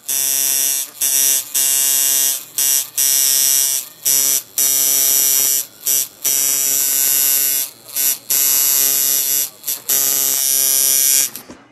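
A tattoo liner machine running on a modded power supply buzzes loudly and close up, in repeated bursts of steady electric whirring separated by short pauses, with no one talking.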